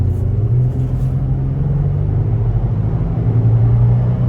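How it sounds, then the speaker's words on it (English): A 2024 Toyota 4Runner SR5 Premium V6 pulling at half throttle, giving a steady low rumbling drone from inside the cabin that holds fairly even throughout, with no voices. "it almost sounds like there's a cold air intake with this V6"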